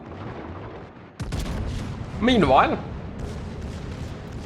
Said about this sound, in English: our secondaries are doing some good work here